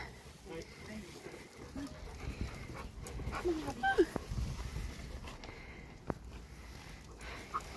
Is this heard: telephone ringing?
no